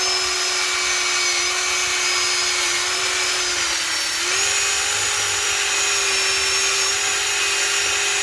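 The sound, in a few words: wire brush cleaning old gasket material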